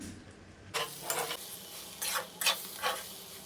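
Kalijira rice sautéed with ghee in a pan, with a few bursts of dry scraping and stirring over a faint sizzle, close and fairly quiet, with short pauses between the strokes.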